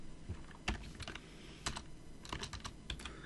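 Keystrokes on a computer keyboard while typing a command into the nano editor on Debian 6, quick irregular clicks with a few louder presses, close and alone.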